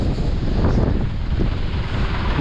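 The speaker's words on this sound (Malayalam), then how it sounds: "നല്ല തണുത്ത കാറ്റ്." Cold wind blowing across a hilltop on a mountain-bike trail at Kallipara, heard as a constant loud low rumble buffeting the microphone, with no talk.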